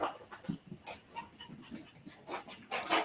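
A small Yorkie dog pants in quick, breathy bursts nearby, the rhythmic huffs rising and falling across the moment with a louder flurry at the end.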